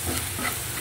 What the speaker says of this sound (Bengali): পেঁয়াজটা আমি ভেজে নিচ্ছি